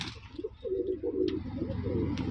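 Rajshahi Giribaz pigeons cooing steadily nearby in a loft, with low, continuous rolling coos throughout and a couple of brief sharper sounds over them.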